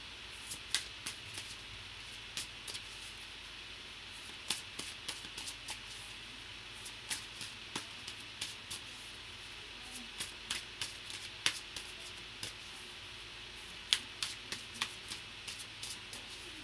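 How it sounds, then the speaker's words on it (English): Tarot cards being shuffled by hand, a long run of soft, sharp riffling clicks and taps at an irregular pace, near and fairly quiet over a steady hiss of room noise, with no voices. "Now let me shuffle for the next 4 guys"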